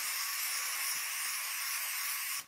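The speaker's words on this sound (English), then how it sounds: "Spray up a rag," An aerosol can of dye penetrant cleaner solvent sprays steadily onto a rag for about two seconds while checking a John Deere 720 diesel flywheel for cracks, a close continuous hiss.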